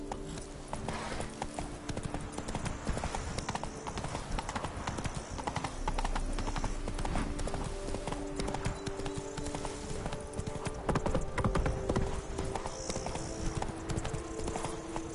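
Horse hooves clip-clop steadily at a trot in The Witcher 3: Blood and Wine, a continuous rhythmic clatter over game music and ambience, with a brief spoken line.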